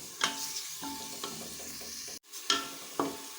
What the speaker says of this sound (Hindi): इस टमाटर और तमाम मसालों को हमने अच्छे से भून लेना है।